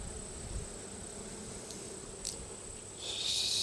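Honeybees in a backyard hive that is going into winter, a steady dense buzz filling the air throughout and swelling louder near the end.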